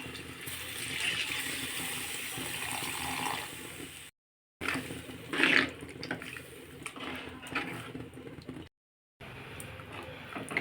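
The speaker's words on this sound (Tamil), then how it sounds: "புளி கரைச்சி வச்சுருக்கோம் வடிகட்டி. இப்போ உள்ளே ஊற்றிக்கிடுவோம்." Strained tamarind water pours steadily into a cooking pot with a soft rushing splash, broken by brief silent gaps, then more gurgling and pouring.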